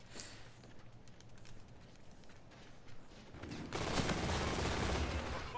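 Bursts of rapid M8 gunfire in the game Infinite Warfare crackle in steady rattling volleys, growing louder and denser toward the end over a low background rumble.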